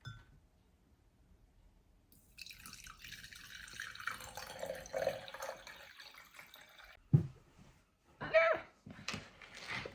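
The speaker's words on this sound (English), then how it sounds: "now let's pour in the water." Water pours in a steady, splashing stream into a snow globe for several seconds, followed by a brief pause and a few light clinks and drips.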